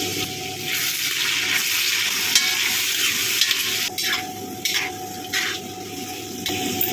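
Long potato strips fry steadily in hot oil, a loud, continuous sizzle with occasional stirring scrapes and brief dips as the pan is worked.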